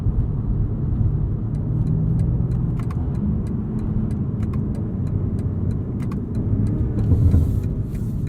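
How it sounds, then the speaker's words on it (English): A 2021 BMW M5 Competition accelerating hard, its engine a steady loud rumble with a string of sharp, irregular exhaust pops and crackles scattered through the run. "I love the pops from this exhaust."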